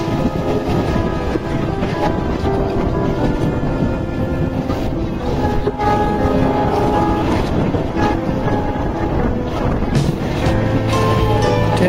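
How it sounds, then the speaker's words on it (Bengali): A passenger train departs from Tibazar station, making a continuous loud rumble and clatter of wheels under steady wind noise, with repeated knocks from the carriages throughout. "ট্রেন ছাড়ছে"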